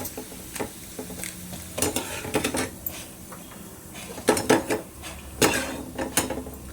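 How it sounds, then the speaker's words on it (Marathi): Potato and sabudana fasting papad being pressed down and roasted, giving irregular scraping, pressing and rubbing scuffs along with faint crackling and clatter against the pan, close and fairly loud, with no talk. "असं दाबून दाबून भाजून घ्यायचं"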